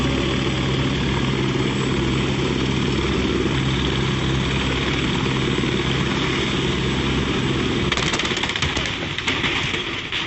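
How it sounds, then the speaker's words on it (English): A steady, loud rotor drone with churning engine noise from a police helicopter preparing for takeoff on a road, blades at full speed, fills the scene, dense and continuous, with a burst of clattering near the end. "a police helicopter preparing for takeoff on a road, its blades spinning at full speed"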